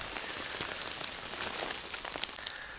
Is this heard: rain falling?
yes